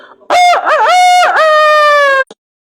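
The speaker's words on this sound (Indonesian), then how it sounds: "kita mendengar suara kokokan ayam di pagi hari" A single loud rooster crow, close and clear, rising and wavering before holding a long drawn-out final note.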